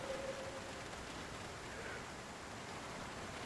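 Heavy rain in the video game Project Zomboid makes a steady, dense hiss with no break, fairly faint and unvarying.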